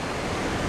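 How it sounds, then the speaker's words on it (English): Ocean waves in the Norwegian Sea, heavy water at sea where a pipe-laying vessel works, heard as a loud, continuous broadband wash of surf and wind with no talk. "The waves out here can get pretty treacherous."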